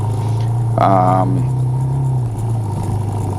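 A Suzuki DRZ 400 dirt bike rides a muddy trail with a steady, close engine drone throughout and a brief swell of revs near the start. A voice talks over it.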